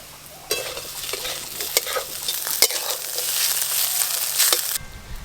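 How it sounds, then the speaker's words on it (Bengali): Potatoes and bitter gourd fry in a pan, hissing and sizzling loudly up close while a utensil stirs and scrapes them with sharp intermittent knocks. "আলু উচ্ছেগুলোও কিন্তু বেশ ভালো করে ভাজা ভাজা হয়ে গেছে"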